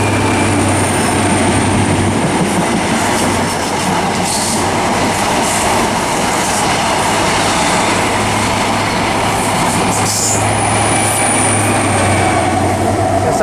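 Class 165 diesel unit pulling away for Bedwyn on the Great Western main line, a close, continuous rumble of wheels and engine with clickety-clack and brief squealing bursts, loud and unbroken throughout.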